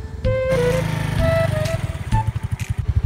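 A motorcycle engine runs close by in a Bisaya street scene, its throbbing low rumble pulsing steadily and swelling in rhythmic surges toward the end, with a brief tonal chirp early on.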